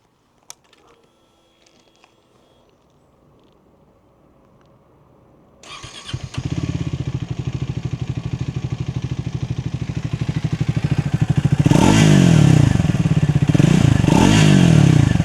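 Triumph Speed 400 motorcycle engine is quiet at first, then cranks and fires into a steady idle that rises into revving, close and loud with no talking.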